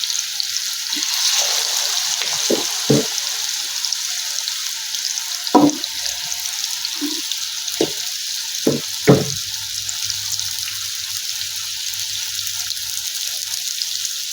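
Chicken pieces sizzle in a hot pan, a steady loud frying hiss throughout, broken by a few brief clatters and scrapes of utensils, with no talking.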